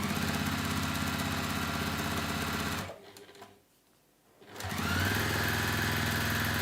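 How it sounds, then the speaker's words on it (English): A sewing machine stitches a quarter inch down the double-folded edge of a cork tote, running steadily and close, then pausing for about a second and a half before resuming the same even whir. "you're going to sew 1/4 inch down that double folded edge"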